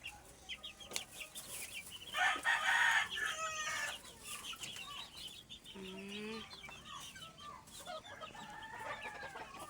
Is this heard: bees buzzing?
no